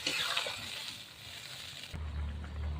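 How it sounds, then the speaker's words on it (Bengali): Water goes into a pan of cooked-down masala for a bata fish and potato curry with a soft, hissing gush that shifts partway through into a lower, fuller wash. The sound is quiet and close. "এবার জল দিয়ে দিচ্ছি, কষানো হয়ে গেছে।"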